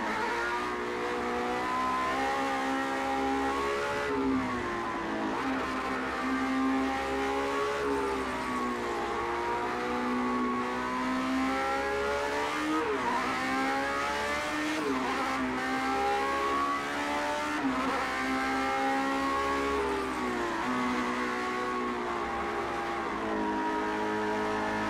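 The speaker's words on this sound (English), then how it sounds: "Cosworth motor in the Lotus 7-8," Cosworth engine of a Lotus 78 vintage Formula One car in the Project CARS 2 racing game at Hockenheimring, a loud, high-pitched wailing engine note rising and falling through repeated gear changes, continuous throughout.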